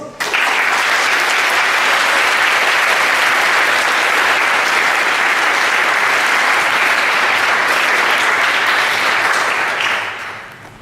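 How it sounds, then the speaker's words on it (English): A large audience at a poetry slam competition bursts into dense, steady applause welcoming the first slammer, sustained loudly for about ten seconds before tapering off at the end. "We say hello to our first slammer in the competition with a big applause."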